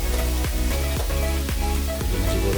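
Food sizzling in a pan on raised heat while being stirred, a continuous loud frying hiss broken by repeated scraping strokes about every half second, close up.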